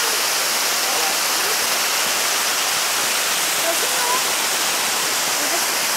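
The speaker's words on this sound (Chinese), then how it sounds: "这是白丝瀑布" Shiraito Falls in Japan, seen during snowfall, gives a steady, loud, broadband roar of falling water that holds unbroken throughout.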